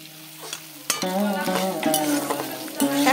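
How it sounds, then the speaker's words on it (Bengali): Chopped coconut pieces frying in oil, a close sizzle under clattering spatula scrapes and stirring knocks, with a steady tonal hum running beneath. "এখন নারকেলগুলো ভেজে নিচ্ছি"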